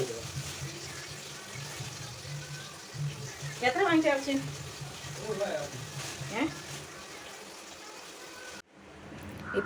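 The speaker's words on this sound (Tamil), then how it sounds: "வெங்காயம் போட்டு நல்லா வதக்கலாம்" Onions sauté in a pan with a soft, steady sizzle, joined by a brief burst of hissing and some stirring, while a person talks over it.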